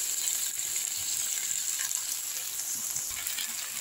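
Mustard paste ground with green chili and salt fries in a pan, giving a steady, close hiss and crackle that holds evenly throughout with no voices.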